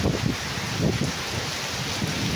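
Typhoon Nando drives strong wind and rain, a constant dense roar of gusts buffeting the microphone, close and loud with low rumbling surges.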